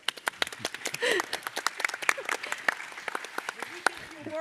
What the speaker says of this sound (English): join me and give them a warm applause